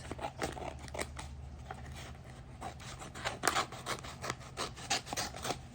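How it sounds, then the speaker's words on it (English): Close, quiet snipping and rasping of scissors cutting through paper in short irregular strokes, with soft rustling between cuts. "So I'm gonna use my scissors. I'm gonna cut out this piece here."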